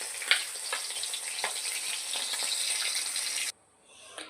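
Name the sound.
snakehead fish frying in oil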